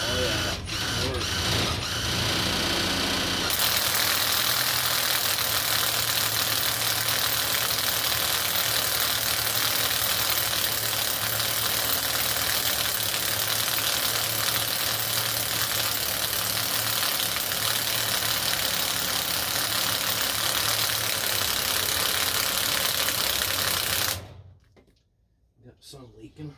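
A DIY waste oil transfer pump runs with a loud, steady mechanical drone and a rapid internal chatter. It keeps going for about twenty seconds, then cuts off abruptly into silence.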